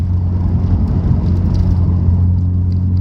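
A Nissan GT-R cruises slowly along a 60 mph road at about 32 mph, heard from inside as a steady loud low engine and road rumble with no talking.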